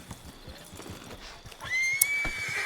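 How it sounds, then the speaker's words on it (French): A horse in Red Dead Redemption 2 clip-clops with quick hoof beats, then lets out a short whinny near the end, close and fairly loud over faint background ambience. "Vous avez trouvé un cheval?"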